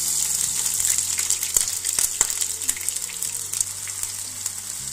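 Ginger paste fries in hot oil in a pan for a homemade egg pickle, a continuous close sizzle broken by sharp pops and spatters.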